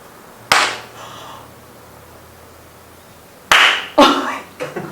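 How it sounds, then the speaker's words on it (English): Sharp hand claps ring out in the Omori District streetscape of Iwami Ginzan, a single crisp clap followed after a pause by a quick cluster of three or four more, each with a short bright echo in the quiet town. "I heard you clap"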